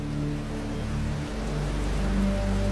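Rain falls in a Hindi animated horror cartoon as a steady, dense hiss, with low sustained musical tones running beneath it.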